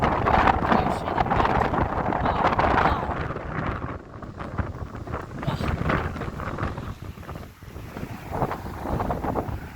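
Strong gusting wind buffets the microphone on a roadside walk near Invergordon, loud rumbling blasts that surge and ease over several seconds.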